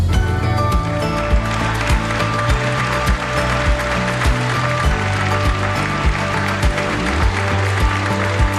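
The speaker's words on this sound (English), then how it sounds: "Let's give him a big round of applause." Audience applause at the SBS D Forum 2025 in Seoul, welcoming a speaker: a dense, steady patter of clapping that runs throughout, mixed with sustained tonal background music.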